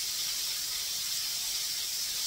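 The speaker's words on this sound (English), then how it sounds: "Look how much better they're frying now" Mushrooms frying in a generous amount of hot oil give off a steady, bright sizzling hiss that holds evenly and continuously throughout, close and without any talk.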